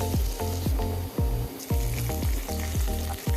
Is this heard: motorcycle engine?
no